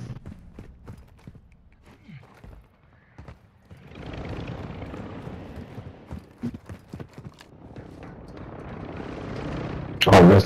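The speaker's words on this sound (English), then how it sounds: "that's a player chopper" A player-controlled helicopter in an online video game approaches, its rotor wash swelling from faint to a steady whooshing roar over several seconds amid scattered in-game clicks and thumps, ending in a sudden loud burst.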